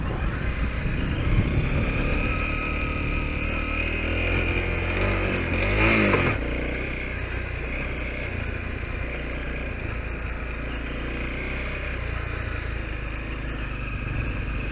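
A Honda CRF250L rides off-road at Prairie City Off Highway Vehicle Park, its engine droning steadily and loudly throughout with a rising rev swell around six seconds, then a steadier run with wind noise.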